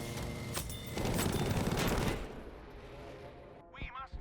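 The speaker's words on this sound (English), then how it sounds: "I'm going to do my first strafe with the cannons this game." Aircraft cannons strafing in Battlefield 5, a dense, loud burst of rapid fire lasting about two seconds, followed by a fading rumble and engine noise.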